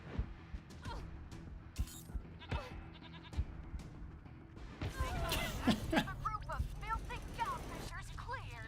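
A goat in the video game Wasteland 3 bleats in a few wavering cries over game sound effects and impacts, with a person talking in between.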